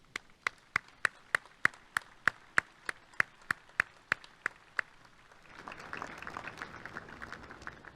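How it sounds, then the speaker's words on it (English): Applause at a Navy chief petty officer pinning ceremony: a run of single sharp, evenly spaced claps close by, then a broader wash of many hands clapping together from the audience. "How about a warm round of applause for those sailor spouses, for their children, and for all Navy families."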